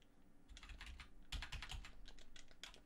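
Fast typing on a computer keyboard, with rapid clusters of light key clicks and a few heavier thumps, close by but quiet and with no talk over it.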